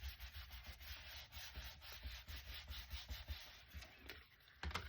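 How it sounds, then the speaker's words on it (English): A folded paper pop-up box card being burnished on its back with a tool, making quiet repeated rubbing strokes in short uneven bursts, close and alone without talk. "we're just going to press that down and give that a really nice burnish on the back"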